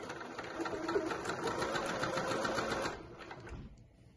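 A sewing machine runs a continuous stitch along a dress seam for about three seconds, a close, rapid whirring that then stops, followed by a soft thump.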